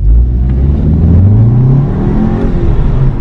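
A newly bought car's large engine revs in a quick blast, a loud close roar that rises in pitch, then drops back and holds near idle, with no talk.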